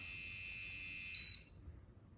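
Sustained high electronic tone from a JCONLY Epoch R4 wireless tattoo machine, steady for about a second before a brief louder blip and cutoff, with low background rumble and no talking.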